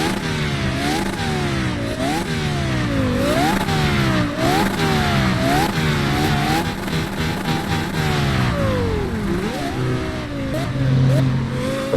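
A Porsche Carrera GT's V10 engine in the Roblox game Midnight Chasers revs up and shifts repeatedly, with a wailing, rising tone that climbs and drops in steady cycles, loud and up close.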